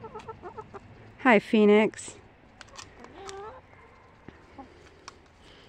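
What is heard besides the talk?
chickens clucking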